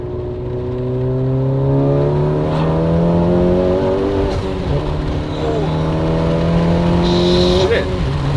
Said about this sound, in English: We're going to try for a higher gear pull.